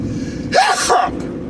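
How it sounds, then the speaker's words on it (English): A single loud, close sneeze with a sharp breathy burst and a rising voiced cry, over a low steady background hum. "I gotta sneeze really bad"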